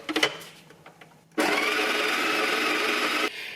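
A Breville espresso machine's built-in grinder grinds coffee beans at grind size 18. It starts abruptly after some small handling clicks and whirs loudly and steadily for about two seconds, then stops.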